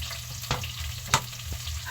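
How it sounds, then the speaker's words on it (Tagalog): Ginger, garlic and espada sizzle in a hot pan with oil for a spicy curry sauce, a steady soft frying hiss broken by a couple of brief stirring scrapes. "gigisahin ko muna yung mga luya at saka ahos at saka espada para medyo maluto muna ng kunti"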